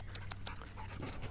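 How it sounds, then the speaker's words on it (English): A bull terrier-like dog pants at a dog park in Salinas, giving quick, rhythmic breaths close by and fairly faint, with a low steady hum behind them. "This one looks like a bull terrier."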